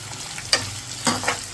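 Egg masala frying until browned in a pan, a steady low sizzle with a few sharper stir scrapes and spatters.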